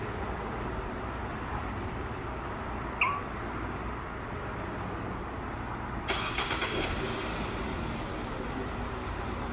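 A Renault Samsung SM7 engine cranks and catches after a remote smartphone start, a brief burst of starter noise settling into a steady idle under a constant background rumble, with no voices.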